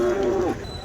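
A single close moo from a Holstein Friesian cow at a cow market, a low sustained bellow that drops in pitch and fades within a second.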